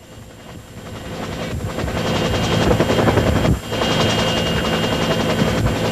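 An American-supplied military helicopter flies during the 1986 El Salvador war, its rotor thumping loud and steady throughout with a brief dip in the middle, no talk over it.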